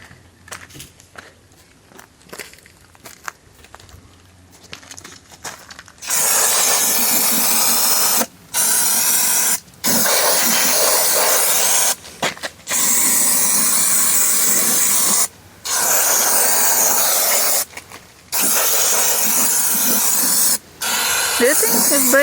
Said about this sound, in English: Can you give me some brake clean so I can clean off the oil?